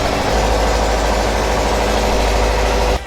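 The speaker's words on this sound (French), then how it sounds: "avant que le moteur de la barge ne soit mis en marche" Barge engine running at a steady idle, a loud constant low rumble with a buzzing mechanical drone and vibration that holds evenly and then drops off right at the end.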